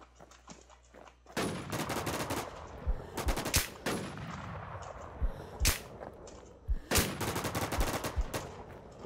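Rapid sharp gunshots from the video game Infestation: The New Z crack out in bursts, some single and some in quick clusters, loud and close, with no talking.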